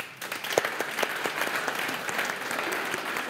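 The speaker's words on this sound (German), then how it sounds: "Einen großen Applaus bitte nochmal" An audience at a youth-and-media panel event gives a big round of applause, a steady, dense burst of clapping heard from within the hall, with no talking over it.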